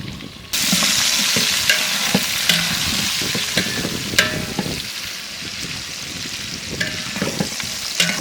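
Two kilos of onions and potatoes frying together in a large pan for Arabian-style biryani, a loud steady sizzle that swells after a sharp start, broken by repeated knocks and scrapes of a stirring utensil.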